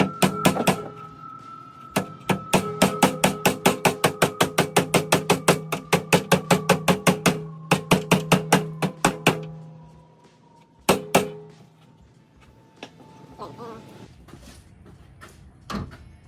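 Rapid, regular hammer blows striking repeatedly in long runs, sharp and close, pausing briefly between bursts before a few final hits.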